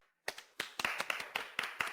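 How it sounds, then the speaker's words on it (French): Audience applause comes as a short burst of sharp, scattered claps, about eight distinct hand claps in quick irregular rhythm, close and fairly loud, with no talk. "Allez, applaudissons le courage de Xueman"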